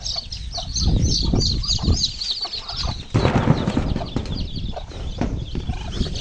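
Chickens with newly hatched chicks on a provincial farm cluck and chirp in close, busy bursts, with high peeping scattered throughout and a brief flutter of wings midway.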